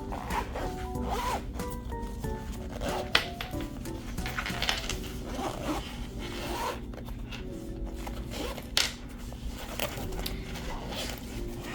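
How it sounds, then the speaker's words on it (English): A zipper is drawn repeatedly around a travel art bag with several compartments, in short rasping runs broken by rustling and handling of the bag's contents, close and fairly quiet. "let me zip all this up"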